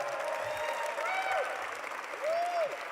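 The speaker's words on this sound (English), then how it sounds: "Can we just give her one more round of applause?" Audience applause at a White House heritage celebration continues as a moderate, steady wash of clapping, with a few vocal whoops and cheers rising over it.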